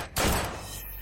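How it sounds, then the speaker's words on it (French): Gunshot in an indoor dramatic scene, a sudden loud burst with a sharp onset that booms and then decays into a sustained rumble. "D'où viennent ces coups de feu?"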